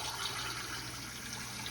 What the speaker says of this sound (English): I'm putting water in this sheet pan.